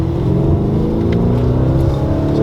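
A sports car with a valved exhaust holds a loud, steady engine drone close by, its pitch edging slightly upward as the revs climb, with no talk over it.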